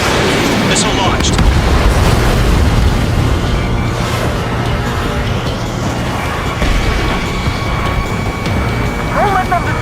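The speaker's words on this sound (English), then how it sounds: "Missile launched." Missile launch and explosions in the Ace Combat 7 video game: continuous rumbling booms and blasts with sharp bursts near the start, loud and dense throughout.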